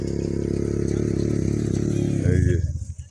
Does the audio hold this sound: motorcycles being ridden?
yes